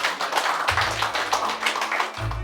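A crowd claps in a dense burst of many overlapping hand claps, with low rumbling underneath.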